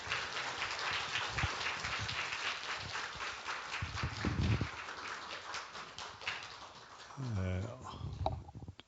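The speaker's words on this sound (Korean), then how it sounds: "이 시간 우리 강사 목사님 박수로 환영하겠습니다" A church audience at a family seminar claps to welcome a guest pastor. The steady crowd applause runs throughout with a voice briefly over it near the end.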